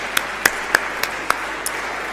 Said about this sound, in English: I would also like to ask for a round of applause for all of our speakers and moderators today